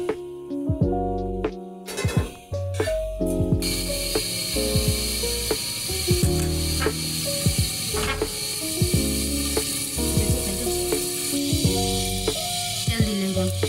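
Garlic sizzling in hot oil in a pan while cooking a Sylheti-style khatta: a steady hiss of frying runs throughout, broken by repeated clanks and scrapes of a utensil stirring, with no talk.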